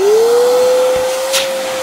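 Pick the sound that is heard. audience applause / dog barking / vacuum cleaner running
vacuum cleaner running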